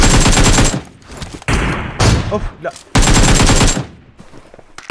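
Gunfire in PUBG Mobile, a battle royale shooter, rattling in loud automatic bursts separated by brief pauses, with a player's short exclamations heard between the shots.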